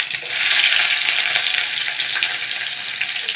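Garlic, cumin and mustard seeds sizzle steadily and loudly in hot oil, a dense continuous crackling hiss that holds for a few seconds with no voices.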